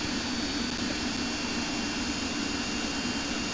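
MD-80 jet engines in X-Plane 11 hold a steady, loud broadband roar with a low hum, winding up to takeoff power set by EPR. The sound is continuous and alone, with no voices.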